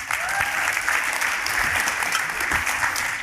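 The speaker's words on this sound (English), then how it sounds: "let's give Gary Vee a huge round of applause" Dense, sustained audience applause at a business conference session, a loud steady roar of many hands clapping with no speech over it.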